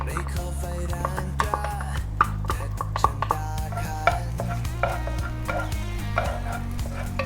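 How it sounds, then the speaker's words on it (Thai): Chili and garlic stir-fried in a little oil in a hot pan: irregular spatula clacks and scraping over a low sizzle, close by, with a steady low hum beneath. "เราจะผัดจนกว่ากระเทียมจะขึ้นกลิ่นหอมนะครับ"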